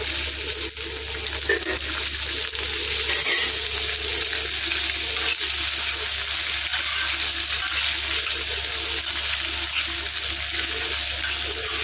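Halved green chillies and lentils fry in hot oil for pesara punugulu, giving a steady, close sizzle and crackle throughout with occasional stirring and no talk.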